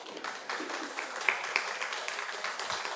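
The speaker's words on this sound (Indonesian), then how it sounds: "Sudah tidak sabar tepuk tangannya dulu." Audience applause at an academic oration, a steady wash of many hands clapping at moderate distance throughout, with a couple of sharper claps standing out briefly.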